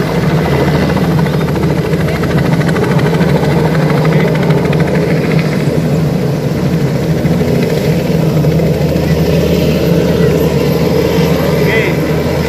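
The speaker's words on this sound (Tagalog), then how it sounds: "So nasaksihan natin yung paglapag ng helicopter ni Kuya Will." Helicopter landing on a yacht at a resort: a loud, steady rotor and engine drone holds close and constant throughout, with a heavy low thrum and broad noise.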